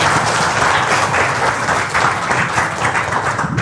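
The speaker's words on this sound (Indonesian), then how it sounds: "Tepuk tangan." Dense, steady applause from an audience at an indoor product education session, sustained loudly across the whole stretch with no pauses.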